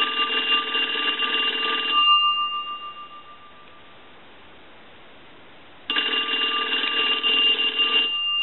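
A loud electric bell of a Western Electric three-slot payphone ringing close by in two long bursts separated by a few seconds of quiet.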